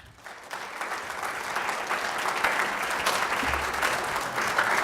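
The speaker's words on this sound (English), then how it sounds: "Let's all give a warm welcome round of applause to our speaker today," Audience applause rising to a steady, dense clatter of many hands welcoming a speaker to an LGBT activism talk, sustained throughout without voices.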